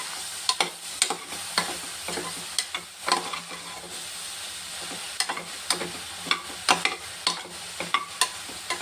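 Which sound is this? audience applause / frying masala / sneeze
frying masala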